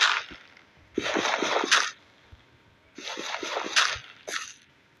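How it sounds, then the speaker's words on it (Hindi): Water poured from a bucket in the Minecraft video game, heard as two bursts of splashing, sloshing noise a few seconds apart, with a short third splash at the end, fairly close and alone with no talk. "अभी पानी डालते हैं हम लोग इधर"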